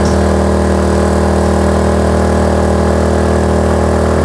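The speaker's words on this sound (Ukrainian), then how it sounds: "О, звук уже змінився двигуна. Піднялись оберти." A Kraft&Dele KD681 inverter generator engine under about 2 kW load gives a steady, loud drone with a strong low hum and constant vibration, running continuously at raised revs without pause.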